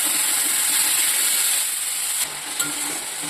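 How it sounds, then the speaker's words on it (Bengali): Spice paste of turmeric and cumin powder with a little water cooking down in a pan for Bengali taro leaf dish, a steady hiss and sizzle with faint stirring scrapes near the end. "দেখতেই পাচ্ছেন মশলাটা আমার কষা হচ্ছে।"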